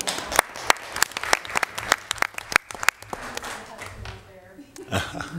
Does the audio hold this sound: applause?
yes